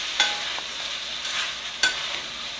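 Potatoes and cauliflower with salt stirred in a pan for aloo gobi, a steady low sizzle broken by two or three sharp spoon scrapes and knocks against the pan, no talking.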